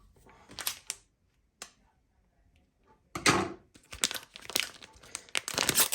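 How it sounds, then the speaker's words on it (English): Scissors snipping open plastic pouches of microwave noodles, with sharp crinkling and tearing bursts separated by quiet pauses, then a busier run of rustling plastic and cuts toward the end. "So let's get a pair of scissors and open it up."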